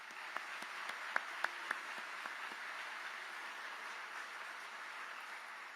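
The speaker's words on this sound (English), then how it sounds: "How about a round of applause for them?" Faint, distant applause from an audience at an event in Austin, a soft steady wash of clapping with a handful of sharper individual claps standing out early on.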